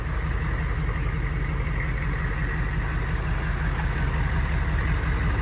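A 1994 AM General Hummer H1 diesel engine idling loudly in an enclosed space, a close, steady, deep clattering rumble with no break.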